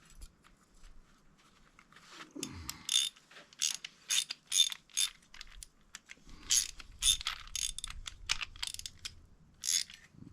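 A ratchet wrench tightening bolts on a Wood-Mizer LT40 Super Hydraulic sawmill clicks in close, steady bursts of rapid pawl ticks, with brief pauses and faint knocks between strokes.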